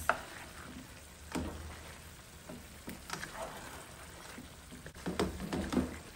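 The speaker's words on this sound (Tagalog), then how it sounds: "Paghaluin lang natin." Sugar being stirred into a cooking mixture in a pan, with scraping and stirring strokes, faint sizzle and light bursts of activity, louder toward the end, and a voice talking intermittently.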